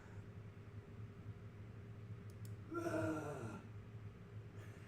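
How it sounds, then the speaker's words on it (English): A single short human groan from a vocalization sound library, about a second long, rises out of a quiet hum of background noise. "Oh, we hear a groan."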